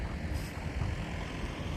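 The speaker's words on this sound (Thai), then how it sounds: "อาจจะดังนิดนึงนะคะเพื่อนๆเนื่องจากว่า ติดริมถนนเลยนะคะ" Road traffic rumbles steadily beside the Chao Phraya riverbank at Ayutthaya, a continuous low roar of passing trucks and cars with no distinct pauses, fairly close and alone without talk.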